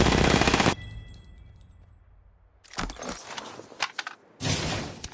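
Gunfire from the Apex Legends video game, a loud burst of shots up front, then a quiet lull before more sharp cracks and another dense burst of firing, with no talking.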